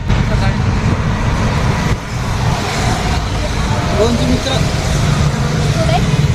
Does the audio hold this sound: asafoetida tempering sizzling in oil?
no